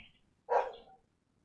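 A neighbour's dog outside the window gives a single short bark, somewhat muffled and distant, in an otherwise quiet room.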